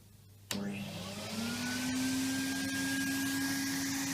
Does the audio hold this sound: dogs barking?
no